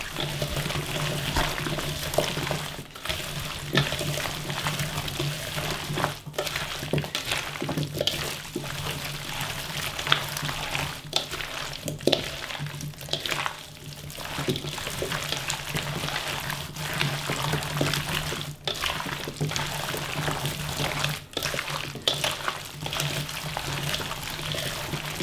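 Drained autumn radish cubes for kkakdugi are tossed with seasoning by hand for kimjang, making continuous soft, wet squelching and sloshing with brief pauses.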